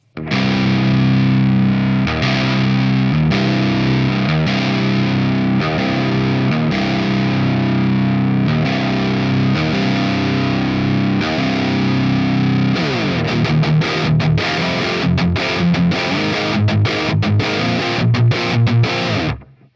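Electric guitar through an ML Sound Lab Volcano amp with the bright switch on, playing loud sustained distorted chords that give way to tight, rapid chugging riffs in the final seconds.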